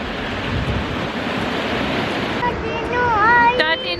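Sea waves wash steadily onto a beach in Spain, a broad, continuous surf rush close by, with a voice and other people talking over it toward the end.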